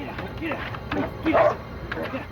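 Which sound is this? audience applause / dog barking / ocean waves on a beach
dog barking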